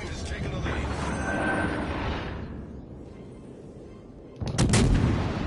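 Naval artillery roars from warships in the video game World of Warships Legends, a continuous rumbling barrage fading then a sharp loud salvo near the end, heavy and close.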